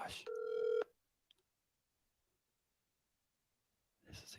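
A single telephone ring, heard over a speakerphone, sounds as one steady electronic burst of under a second. Near-silence follows, then voices start talking at the end.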